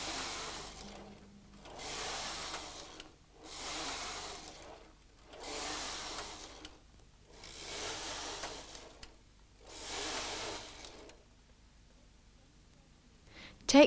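A knitting machine carriage sweeps back and forth across rows of yarn in six even passes, each a whooshing, rattling slide about two seconds long, separated by brief pauses, then silence.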